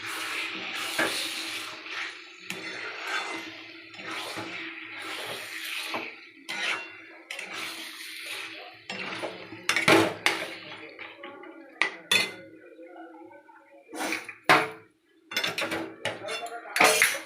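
Spiced meat coated with turmeric, salt and oil is stirred in a little oil in a wok, giving a run of scraping and clattering spatula strokes, with near sizzling underneath and sharper knocks toward the end.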